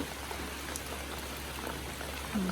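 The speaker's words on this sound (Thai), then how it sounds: "ฝนตกนะคะตอนนี้" Rain falls steadily on a lychee orchard where trees are being cut back, a faint, even hiss of drops with no other sound standing out.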